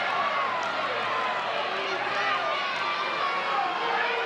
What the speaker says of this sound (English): Crowd disagreed with that one.